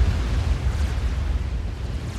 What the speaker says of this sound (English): One explosion after another.